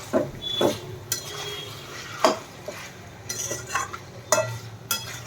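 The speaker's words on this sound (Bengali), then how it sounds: "দিয়ে নিচ্ছি স্বাদ মতো নুন, নমক দিয়ে ভালো করে এটা একটু মিশিয়ে নেব।" Salt is mixed into chicken cooking over a low flame in a pan, with intermittent scrapes and clinks of a utensil against the pan over a faint sizzle, no voices.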